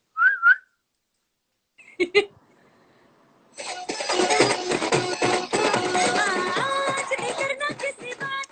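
A person whistles a short, clear rising-and-falling note near the start, followed after a pause by a brief sharp burst and then a long, loud, busy stretch of mixed noise.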